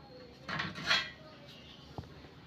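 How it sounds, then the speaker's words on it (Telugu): A kadai, a metal frying pan, is set onto a stove for frying punugulu: a few close metallic clanks and scrapes, then a short sharp knock, with no talk. "కళాయి పెడుతున్నాను."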